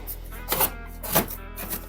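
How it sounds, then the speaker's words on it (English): A cardboard box holding a VW Beetle Empi front beam is sliced open with a blade, three short scraping cuts spaced about half a second apart, close and moderately loud. "Let me slice this box open here"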